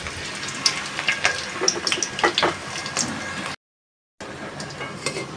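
Chopped garlic frying in hot oil in a home kitchen pan, a steady crackling sizzle with bright spitting pops, broken by a brief silent gap before the frying resumes.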